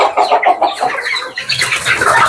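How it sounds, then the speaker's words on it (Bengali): Desi chickens cluck in a farm's coop cages, a busy overlapping chorus of close, loud clucks and squawks with occasional wing flutters. "সবগুলো খোপে মুরগি, সবগুলো মুরগি আর মুরগি।"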